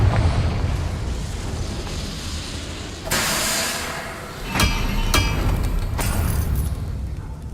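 A Confringo blasting spell goes off in Hogwarts Legacy: a dense rumbling bed breaks into a sharp, bright blast, followed by a few crackling impacts and debris-like clatter, loud and close with no voices.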